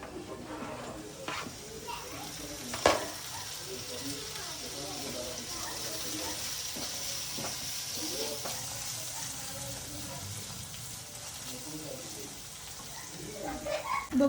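Tomato goes into an onion mixture sautéing in a pan for pithla, and a steady, moderate sizzle runs throughout, broken by a few sharp clicks and spoon scrapes, with faint voices in the background.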